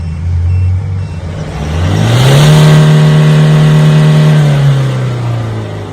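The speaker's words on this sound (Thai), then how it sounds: "จากนั้นให้ ผู้ควบคุมรถทำการเหยียบคันเร่ง" A diesel engine idles, then revs up and holds high as the accelerator is pressed for an exhaust smoke test before easing back down; it is loud and close, with no talking.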